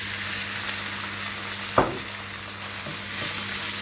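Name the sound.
meat frying with browned onions in a pan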